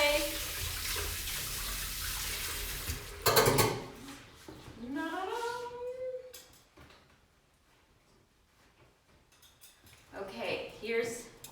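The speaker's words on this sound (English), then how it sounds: "I'm going to clean the egg beater quickly, rinse it off." An egg beater is rinsed under a running kitchen tap. A loud rush of water lasts a few seconds, then gives way to clinks and handling noises, with a voice speaking softly in between.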